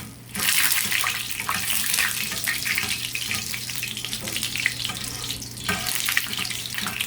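Chile relleno frying in a pan of very hot oil while oil is flicked over its top, giving a steady, close, bright sizzle that runs without a break and with no voices.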